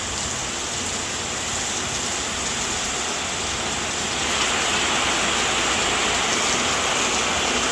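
Heavy rain pours steadily outside a small shop front, a loud, dense wash of drops that thickens further partway through, with no voices.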